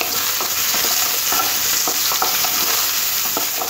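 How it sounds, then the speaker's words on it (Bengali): Potato pieces fry in hot oil, a loud, constant close sizzle with faint repeated stirring taps and no voice. "আলুগুলো একটু লাল করে ভেজে নিতে হবে।"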